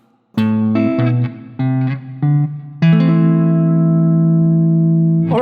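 Plucked electric guitar playing a walking bass line in the low register, a few short separated notes followed by one long sustained ringing note, loud and close with no talking.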